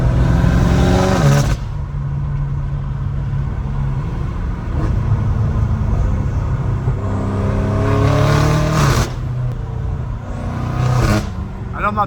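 650hp BMW M5 Competition run hard on the road, a loud steady engine drone with revving swells and sharp crackles near the start and again around the eighth to eleventh seconds, under a voice talking throughout.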